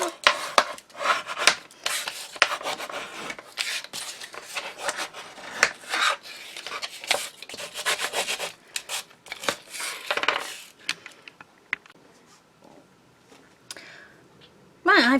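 Double-sided red line tape is rubbed and burnished onto paper structure strips, giving close, scratchy rasping strokes in uneven bursts that thin out toward the end.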